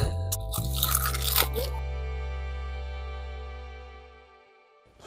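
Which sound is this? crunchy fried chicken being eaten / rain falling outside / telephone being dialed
crunchy fried chicken being eaten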